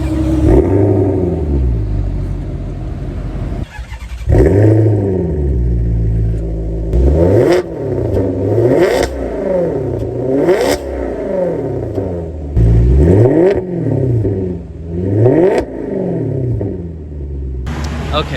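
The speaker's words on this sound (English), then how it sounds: "let's start it up and you can hear how that big V8 sounds" The big V8 of a 2019 Maserati GranTurismo Cabriolet cranks, fires and settles into a deep rumbling idle, then is blipped through a series of sharp, loud revs that rise and fall close by.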